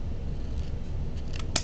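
Scissors snip through wired ribbon while trimming it for a deco mesh wreath, a few short crisp cuts close by, the sharpest one near the end, over a steady low background hum.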